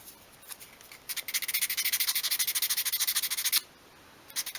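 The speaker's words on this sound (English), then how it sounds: "if you've got any glue marks on the edge, you can sand there as well." Fine sandpaper rubs briskly against the glued edge of a tiny 1/12th-scale wooden vegetable basket in a fast run of close, scratchy back-and-forth strokes, bracketed by a few lighter passes.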